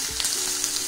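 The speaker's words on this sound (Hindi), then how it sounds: "सबको अच्छे से फ्राई करेंगे" Mixed vegetables frying for vegetable pulao give off a steady close sizzle, with a few faint stirring scrapes over it, all under a second and with no voices.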